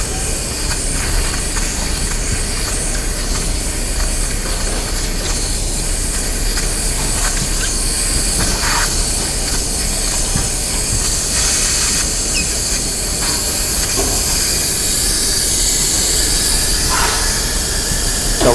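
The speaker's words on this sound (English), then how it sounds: "we're gonna depressurize the system, and we're gonna keep twisting this until air comes out, and you can start to hear it" Compressed air hisses out steadily as an Autopress system is depressurized, a continuous loud broadband rush with faint clicks and small pressure flutters throughout.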